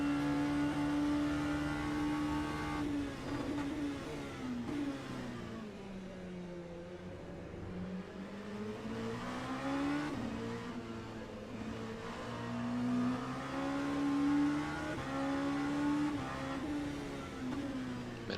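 Race cars at the 6 Hours of Dubai endurance race produce a continuous engine drone that climbs and falls in pitch through gear changes and corners. The sound is fairly faint and steady over eighteen seconds, with no talk.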